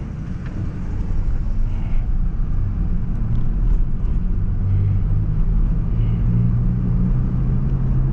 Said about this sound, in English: It's a nice truck.